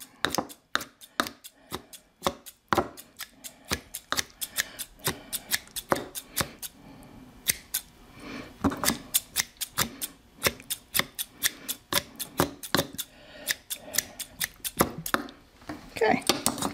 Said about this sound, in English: I just cut things up with the scissors.